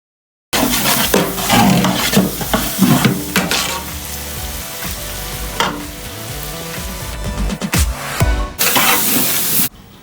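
Fried onions are stirred in a hot pan with salt and curry leaves for Kerala-style beef biryani. There is steady sizzling with scraping and clanking bursts from the spoon against the pan, close and loud.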